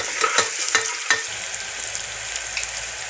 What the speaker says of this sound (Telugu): సాల్ట్ వేయటం ఏం చేయడం తొందరగా ఉల్లిపాయ అనేది మగ్గిపోద్ది